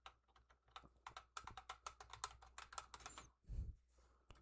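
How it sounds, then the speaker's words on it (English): Clicky computer keyboard typing heard up close, rapid bursts of sharp keystrokes with uneven rhythm and a heavier thump near the end, quiet overall and free of talk. "Don't you like my clickety-clack keyboard?"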